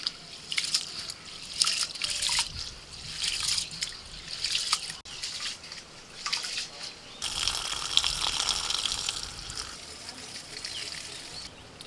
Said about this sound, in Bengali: চালটা ভালো করে আগে ধুয়ে নিতে